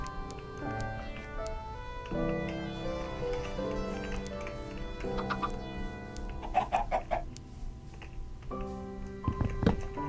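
Minecraft chicken clucks in a video game, a series of short soft bird calls over steady game music, with a few brief ticking clicks between them.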